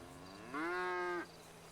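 A single long, low cow moo from the video game GTA V sounds clearly and alone for about a second, full and steady, over a quiet background hum.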